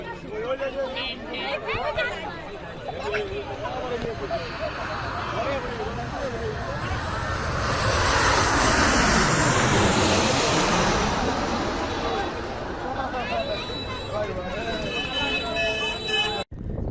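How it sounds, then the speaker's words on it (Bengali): An airplane landing on the runway at Hazrat Shahjalal International Airport swells into a broad roar that peaks and fades as it passes, heard over a crowd's chatter and road traffic. "হযরত শাহজালাল আন্তর্জাতিক বিমানবন্দরের রানওয়ের এই বিমান ওঠানামার দৃশ্যগুলি দেখাবো"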